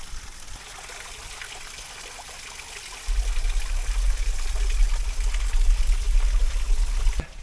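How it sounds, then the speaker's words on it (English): A waterfall pours down a steep rocky ravine in a steady, continuous rush of water, nearby and fairly loud, growing deeper and fuller partway through, with no voices. "At the top of the waterfall"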